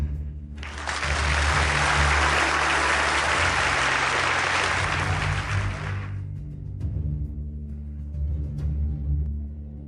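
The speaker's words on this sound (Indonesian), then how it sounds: "mari kita sambut dengan tepuk tangan. Presiden Investasi Mi Feng King Yun." An audience at a business event applauds to welcome a speaker, a loud burst of dense clapping that runs for several seconds and then abruptly dies away into low room hum.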